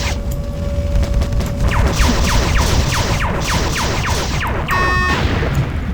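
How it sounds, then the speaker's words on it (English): A fusion pistol firing in the first-person shooter Marathon 2: Durandal, a rapid series of repeated energy shots with sharp descending zaps, loud and close, ending in a buzzing ringing burst. "fusion pistol time"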